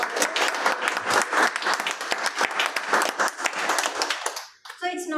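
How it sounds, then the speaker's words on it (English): A Toastmasters meeting audience bursts into a sustained round of applause, many hands clapping densely and loudly for several seconds before it thins out near the end, where a voice begins to speak. "A big round of applause for her."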